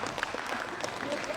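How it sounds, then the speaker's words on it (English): Scattered applause from a conference audience, a dense patter of clapping with a faint voice underneath. "Yes, you can clap."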